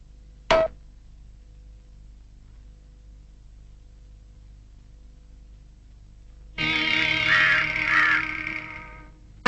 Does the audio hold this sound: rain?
no